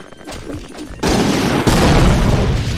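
Video game gunfire: after a second of quieter background noise, a loud sustained burst of dense shots and booms erupts abruptly and keeps roaring, with a second jolt partway through.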